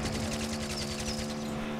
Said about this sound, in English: That was a crazy shot!